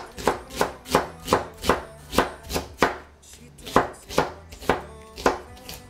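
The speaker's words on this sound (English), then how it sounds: "I normally put some onion. So cut it." An onion is chopped with a knife on a board in a home kitchen: about fourteen crisp, evenly spaced chops, close and fairly loud, with a brief pause midway and no talking.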